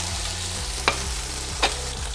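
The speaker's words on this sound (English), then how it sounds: "Give it just a couple of seconds for the pan to regain its heat, then add the other fillet." Swordfish fillet frying in a hot pan, a steady close sizzle with a low hum underneath and a couple of brief sharp spikes of crackle.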